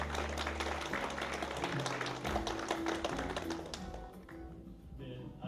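An audience at a broadcaster's 50th-anniversary ceremony in Chuncheon breaks into sustained applause, a thick, even patter of many hands that fades gradually over several seconds.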